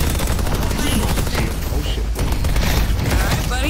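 Rapid gunfire in the Deadlock video game, a dense, loud, continuous barrage of shots with mechanical clatter and game effects, with a voice talking over it.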